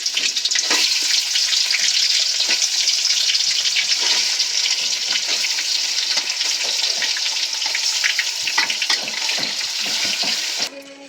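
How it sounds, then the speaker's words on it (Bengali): Meat sizzles loudly in hot oil, a continuous crackling fry with occasional stirring clinks and no talking. "এই যে মাংসগুলো আগে আমি এতে দিয়ে দিয়েছি তেলে ভাজা ভাজা করে নেবো।"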